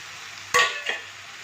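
Cumin seeds dropped into a hot pan on a simmering stove, with a sudden loud crackling sizzle burst that fades quickly, followed by a second smaller crackle, then quiet.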